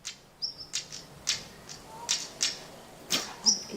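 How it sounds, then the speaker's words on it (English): A stonechat gives sharp, repeated ticking call notes mixed with brief high whistles, spaced irregularly and fairly close, with no talking. "It's a stone chat."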